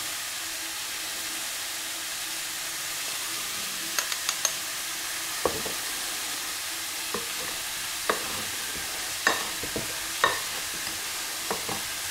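Carrots and onions sweat in a pan for a sauté of pork with wholegrain mustard, a soft constant sizzle under scattered scraping clicks of a utensil stirring, close by and without speech.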